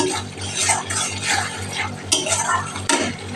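Ground cumin, turmeric and chilli powder are stirred and fried in a pan, with a steady scraping of a spoon against the metal in repeated strokes over a low, constant hum.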